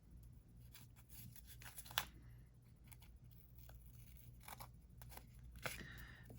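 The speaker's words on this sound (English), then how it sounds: "Then I'll just take some scissors here, cut this edge off" Quiet, crisp snips of scissors trimming the edge of a paper card, a few short cuts spread out over a low steady hum.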